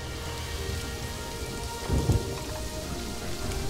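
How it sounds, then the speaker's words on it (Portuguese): Rain falling onto a water surface in the zoo video game Planet Zoo, a steady dense hiss with low rumbling beneath and a brief heavier swell midway. "Olha as gotas de chuva caindo na superfície da água."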